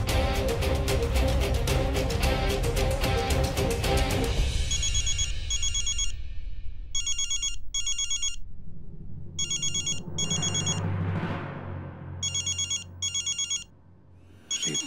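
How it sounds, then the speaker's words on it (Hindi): A phone ringtone plays in repeated electronic bursts, first over loud music, then in regular rings with short gaps amid background noise. "रेवती जी का फोन।"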